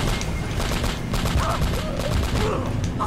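Rapid gunfire from the video game Uncharted: Drake's Fortune, a dense, continuous fusillade of shots and booms over game noise, loud throughout with no clear pauses.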